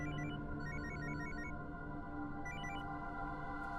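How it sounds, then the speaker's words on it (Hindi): A telephone rings on an outgoing call in a dubbed film scene: faint, repeating bursts of ring tones come in a regular pattern over a steady background score. "ए विजय कुमार को फोन लगा।"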